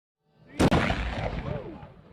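A ceremonial cannon fires on Indianapolis 500 race day morning, a single sharp loud boom followed by a long rolling echo that fades away.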